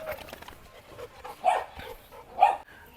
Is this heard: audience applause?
no